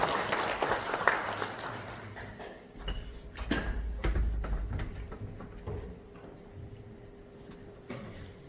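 An audience at a university seminar hall claps for several seconds, a soft scattered patter that thins and fades away, with a few louder knocks and thumps in the room.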